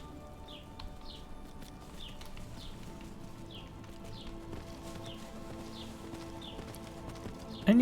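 Horse hooves clip-clop at a steady walking rhythm in the video game Skyrim, soft and moderately close, with a faint ambient hum underneath and no one speaking.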